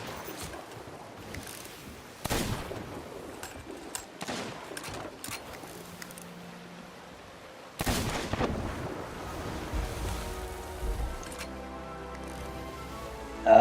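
Enemy ship cannon fire in a video game: booming shots at intervals, a few sharp blasts with one large burst midway, over a constant rumble of sea and wind.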